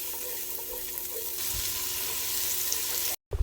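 Hot butterscotch sauce of sugar, butter and a pinch of baking soda is stirred in a pan, giving a steady bubbling sizzle with soft scraping, close and continuous, broken by a brief cutoff near the end.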